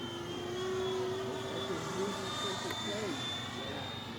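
A Freewing F-4D Phantom II RC jet doing a low gear pass at Rabbit Dry Lake, its electric ducted-fan whine holding steady with a gently shifting pitch, moderately loud and fairly close, with no talk over it.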